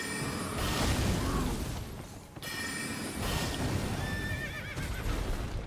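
Horse neighing and hoof clip-clop in a fantasy action video game, several whinnies over steady hoofbeats, loud and close, with brief pauses between bursts.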